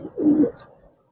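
Giribaz pigeons coo once, a short low throaty call swelling and fading within about a second, close and fairly loud with no other sound around it.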